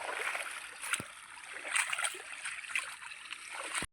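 Water pumped by a motor flows into a farm field for irrigation, making a steady gurgling, splashing stream. It is close and moderately loud, with a few small splashes, and stops abruptly at the end.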